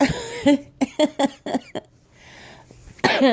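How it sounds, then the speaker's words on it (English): Several sharp, wet coughs in a quick series, close and loud, with a brief pause before a final harsh cough. "Coughing"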